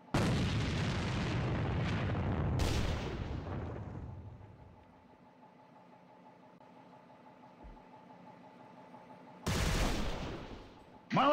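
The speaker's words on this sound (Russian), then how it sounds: "Бросаю гранату! Поберегись! Противник! Граната!" Grenade explosion and gunfire in an online video game match, a burst of loud blasts and shots that fades into a low humming lull before another sharp blast near the end.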